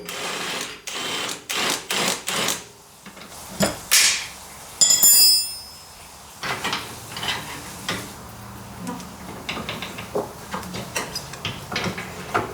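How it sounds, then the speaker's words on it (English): Impact wrench driving out an upper control arm bolt on a first-generation Toyota Sequoia, short rattling bursts of hammering with a sharp whine in the middle, then clicks and clanks of tools and metal parts. "just a wrench to hold one end, and I'm using impact in this case to send it out."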